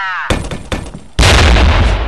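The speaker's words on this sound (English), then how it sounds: "Right, flashbang." A flashbang grenade detonates in a Flash-based infiltration game aboard an airship, with quick sharp cracks followed by a loud sustained blast and ringing roar.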